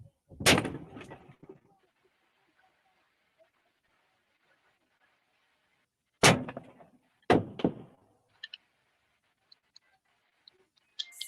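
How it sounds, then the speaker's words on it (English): Sharp, distant gunshots crack out in a sparse pattern, one early and two close together later, with quiet gaps and faint ticks between. "shots ring out in the distance"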